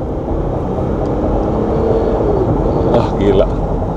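A Mercedes-Benz G400d diesel accelerates hard in second gear, heard as a loud, continuous cabin rumble with a rising engine tone. A voice speaks over it.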